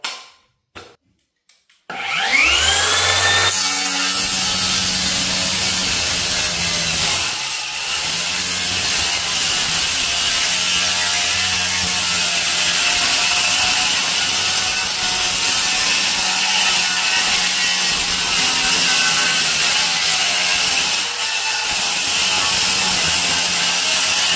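FLEX cordless circular saw with a T-Power battery pack cutting through material, a loud, steady high whine that sags slightly as the blade bogs down, then recovers, sustained close-up for over twenty seconds after a brief start.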